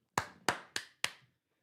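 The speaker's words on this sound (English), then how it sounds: "We got the round of applause on here." Four evenly spaced, sharp claps, close and fairly quiet, ringing briefly in a quiet room as a small round of applause for a new channel member, with no voices.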